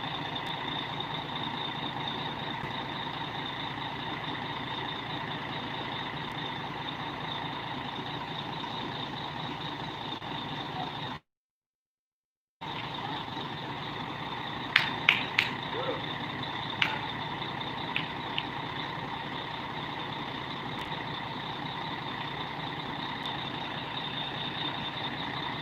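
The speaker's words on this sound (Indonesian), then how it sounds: "Baru pertama yang singgah di Toraja, bus Lita di sini." A Litha bus idles and maneuvers at a roadside kiosk in Toraja, a continuous loud engine rumble with a short gap, then a few sharp reversing beeps or brake hisses, no talk.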